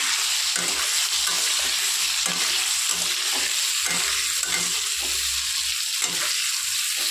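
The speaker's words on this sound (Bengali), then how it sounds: "এই ফোড়নের মধ্যে এবার আমি আলুটা দিয়ে দেবো। আলুটা দিয়ে ভালো করে নাড়াচাড়া করবো।" Potatoes frying in hot oil with spices, a constant loud sizzle broken by repeated scraping and clattering as they are stirred in the pan.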